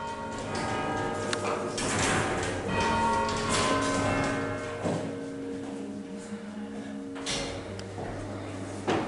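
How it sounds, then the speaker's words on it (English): Church bells chime and ring with lingering, overlapping tones, fairly faint and reverberant, with some background noise and clunks. "so obviously separate bells that ring the chime"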